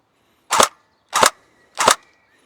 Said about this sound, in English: it's now kind of got a recoiling mass and a full travel bolt now